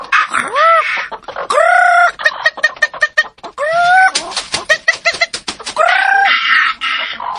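Loud, close rooster crowing, several drawn-out crows in a row, mixed with clucking and excited squawks from other chickens.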